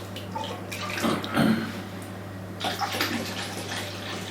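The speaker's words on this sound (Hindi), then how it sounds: "और 5 मिनट जब रखे हुए हो जाए तो इसमें थोड़ा सा गर्म पानी ऐड कर लें" Hot water poured into a foot-soaking basin, an uneven splashing pour that swells mid-stream, pauses, then resumes, heard close and fairly soft over a steady low hum, with no voices.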